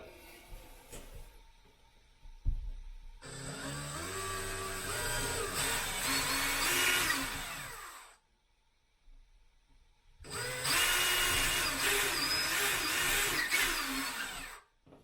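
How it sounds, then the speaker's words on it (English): Two long bursts of a whining electric drill, each several seconds, separated by a pause with faint handling noise, while installing a bidet toilet seat. "So let's start drilling."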